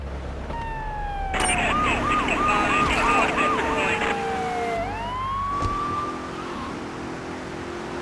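A police car siren wails in GTA 3, rising and warbling through rapid yelp cycles before sliding into a long rising tone, loud over engine and traffic noise.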